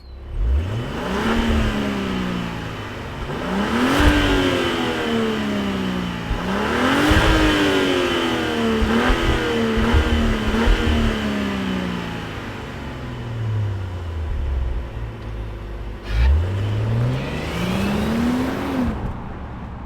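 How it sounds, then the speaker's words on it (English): A 2024 Range Rover Velar P400 luxury SUV is started and driven, its engine revving up and shifting through gears repeatedly, loud and steady with rising and falling pitch sweeps. "let's fire up this P400 and see it move."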